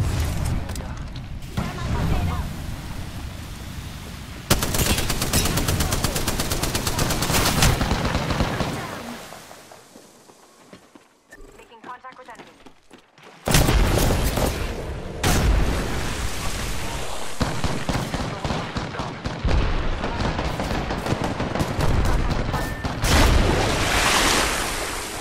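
Heavy gunfire in Apex Legends comes as bursts and booming shots. A quieter gap falls near the middle before the firing resumes, loud and continuous, with voices mixed in.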